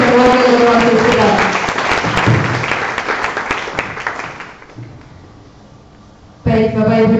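A school audience claps for student council president and vice-president candidates at a debate: dense applause that gradually thins and fades, before a voice abruptly cuts in near the end.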